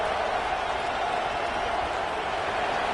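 A football stadium crowd roars on a fourth down to urge the defense on, a dense, sustained wash of cheering and noise that stays loud and even throughout.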